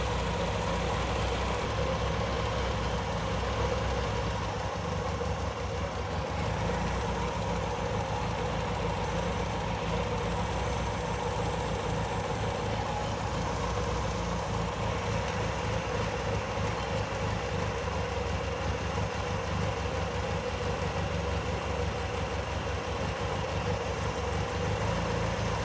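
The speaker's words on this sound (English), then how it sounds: "So now with the idle screw, I can open the throttle a little bit, only for this carb." The engine of a 1966 Triumph Spitfire idles steadily and fairly loud during carburetor adjustment, with an unbroken, even running note for nearly half a minute and no voices.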